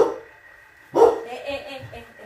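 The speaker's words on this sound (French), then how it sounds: "le chien aboie" A dog barks sharply nearby in a short burst, rising suddenly over faint background noise, with a few softer yelps trailing after.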